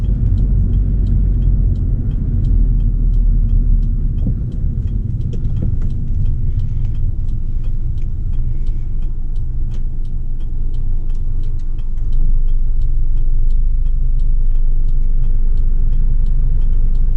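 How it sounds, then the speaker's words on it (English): A 1997 Acura CL with a manual transmission slows under engine braking while driving, giving a steady, loud low engine drone and road rumble with faint ticking above it and a slight swell near the end. "If I do have to slow down, quickly, I'd rather just use the engine."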